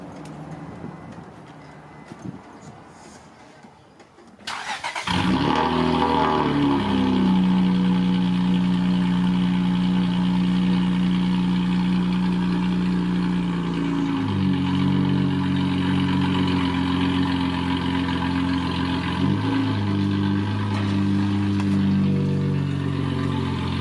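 A Nissan J30 with new exhaust headers starts after a few quiet seconds, then idles with a loud, steady, deep drone, the engine pitch shifting slightly a couple of times.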